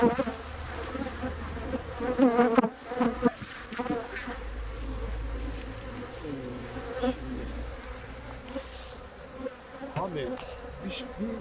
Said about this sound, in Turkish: arılarımızın da uçuşunu göstereyim